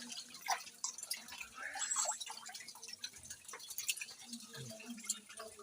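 Water splashes and drips while a pet turtle's pool is emptied and refilled, quiet scattered trickles and taps, close but faint, with soft voices murmuring now and then.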